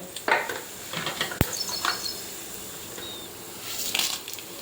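Spice seeds such as cumin dropped into hot oil give a soft sizzle and crackle, with a sharp clatter of a utensil against the pan and scattered faint pops fading in and out during chutney preparation.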